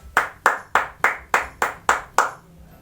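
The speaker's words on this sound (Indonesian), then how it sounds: "Ayo berikan tepuk tangan untuk Made" Eight evenly spaced claps from a classroom during a microteaching lesson, each sharp and crisp in a steady rhythm, close and clear, ending in a brief quiet.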